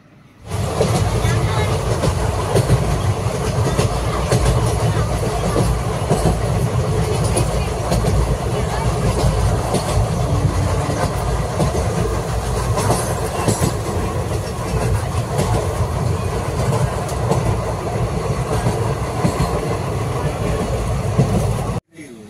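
Continuous rumble and rattling of a train from Jammu to Udhampur running on rails, steady and close throughout, with voices faintly present beneath the noise.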